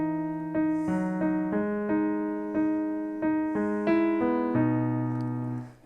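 Piano plays the closing part of the intro of a song as a steady sequence of sustained chords and notes, clear and unaccompanied, fading out at the end.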